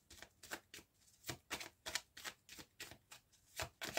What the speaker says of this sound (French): on va faire un tirage de 9 cartes après la coupe